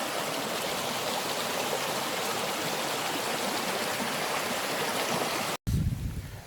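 A stream on the Salochy Trail at Loch Lomond rushes steadily and close by, a dense continuous babble that cuts out abruptly near the end and then resumes more faintly.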